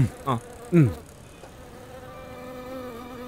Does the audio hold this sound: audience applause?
no